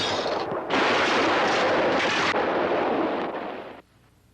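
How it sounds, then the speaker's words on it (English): Rifle gunshots in a 1960 western TV drama set in the Old West. A dense, loud burst of blasts and rumbling reports lasts about three seconds, then cuts off abruptly. "What's all that shooting about?"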